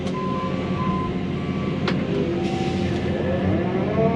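A truck reverses into a basement excavation site, its backup alarm beeping over a steady, loud engine rumble and machinery noise.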